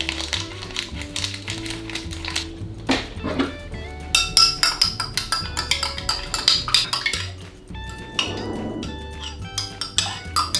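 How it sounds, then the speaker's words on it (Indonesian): Spoon clinking and tapping against a glass while Prevo green apple drink mix is stirred into water, a quick run of bright, close metallic taps and clinks with a short swirling pause near the end. "Oke, kita sudah aduk."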